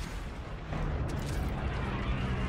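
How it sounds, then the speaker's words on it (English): In the Call of Duty: Infinite Warfare Zombies video game, an explosion produces a loud, dense, continuous roar that swells after a moment and then holds steady. "What was that explosion?"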